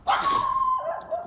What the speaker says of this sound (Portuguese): Tem cachorro.